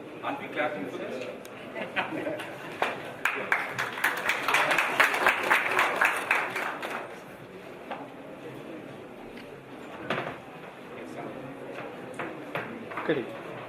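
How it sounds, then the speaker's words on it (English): An audience claps at a city management session on urban mobility, scattered hand claps swelling into moderate applause that fades to sporadic claps, heard from a distance in a hall alongside faint talk. "Aren't we clapping for this?"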